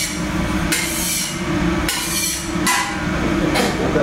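Flat metal spatula scraping and pushing onions across a hot commercial griddle, several loud broad scrapes at uneven intervals over a steady low kitchen rumble, close and with no talking.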